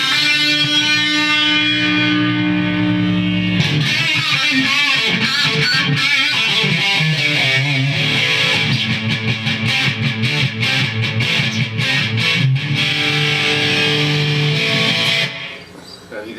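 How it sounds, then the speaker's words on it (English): Heavily distorted electric guitar plays loud, sustained chords, then shifts into faster, choppier strumming before ringing out at the end. "Now if I add a lot of distortion to that and want to really rock it out"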